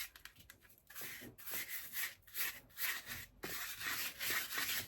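Hand rubbing copper colour across the surface of a corrugated barn vessel, a dry scratchy rubbing in uneven strokes that starts in short bursts and then runs in longer, steadier passes, close and alone.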